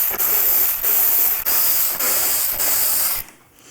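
A ratchet works Torx 27 fairing bolts loose on a Road Glide motorcycle, loud close clicking strokes repeating in an even rhythm about every half second, then stopping.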